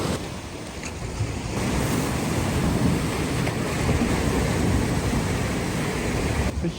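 Sea waves washing against a rocky shore on the Isle of Skye, a steady broad roar of surf mixed with gusting wind buffeting the microphone, continuous and fairly loud with no talk.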